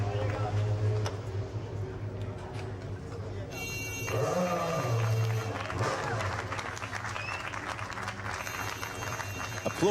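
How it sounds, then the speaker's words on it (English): Applause and celebration in parc fermé after a Euroformula Open race at Barcelona, Spain: crowd clapping and cheering at a distance under a commentator's talk, with a tonal hum running throughout. "Applause and celebration for Sandy Stubik in Parc Fermé."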